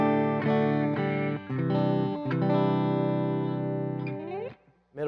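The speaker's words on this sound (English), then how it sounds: "Alrighty, I am on the green, the clean channel." A Wolfgang electric guitar played through an EVH 5150 Iconic amp on its clean channel, with little reverb and resonance and presence turned down, rings out in a few sustained chords with short gaps between them.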